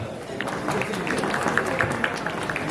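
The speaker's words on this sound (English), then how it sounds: "applause to all the marchers who participated in today's event." Steady crowd applause for marchers at a school Republic Day celebration fills the whole stretch, a dense patter of many hands clapping at moderate volume with a faint voice or two mixed in.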